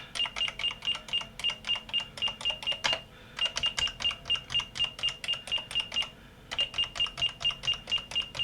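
Rapid bursts of key presses on a Sinclair Spectrum Plus 3 computer keyboard during a repair test, crisp regular clicks in quick runs broken by short pauses, with a steady electronic tone sounding alongside.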